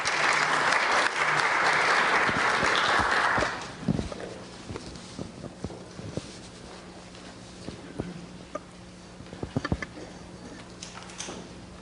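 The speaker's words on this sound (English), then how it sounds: "Let's give him a round of applause." Dense applause from a study-abroad session audience lasts about four seconds, then breaks off into scattered claps, shuffling and small knocks in a quiet room.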